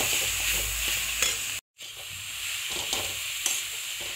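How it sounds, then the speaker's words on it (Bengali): Cabbage is stir-fried in a pan with salt, turmeric and coriander powder: a continuous close sizzle with scraping stirs, broken by a brief silent gap, and no voices. "এইগুলো দিয়ে এবার এটাকে ভালো করে কষিয়ে নিতে হবে"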